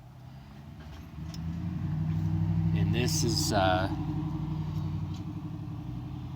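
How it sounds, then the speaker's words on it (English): Road traffic rumbles past outside with a steady, close engine drone that swells and lingers, while someone talks over it. "Sorry about the noise, a lot of traffic's going by right now."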